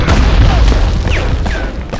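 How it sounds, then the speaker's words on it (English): Pistol gunfire in the Medal of Honor video game, a loud dense barrage of booming shots and thuds filling the scene, with faint voices mixed in. "he had a pistol and he's shooting it off like it was a machine gun"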